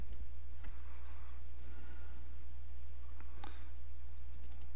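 A computer mouse clicking while files are compressed into a zip folder, a few sharp, isolated clicks spaced irregularly over a faint steady hum, with a quick double click near the end.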